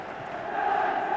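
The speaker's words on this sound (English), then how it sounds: "Listen to the crowd" A stadium crowd at the 1979 FA Cup semi-final replay between Liverpool and Manchester United roars in a sustained, swelling wall of cheering and chanting, distant and continuous.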